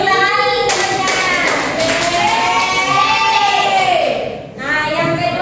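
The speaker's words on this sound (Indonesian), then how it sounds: "Tepuk tangan temannya." A classroom of fourth-grade schoolchildren claps for a classmate during a lesson, with steady close clapping mixed with bright young voices calling out over it throughout.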